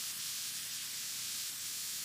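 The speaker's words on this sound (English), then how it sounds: "I spray air freshener." An air freshener aerosol sprays in one steady hiss lasting about two seconds, fairly faint and with no pauses or talking around it.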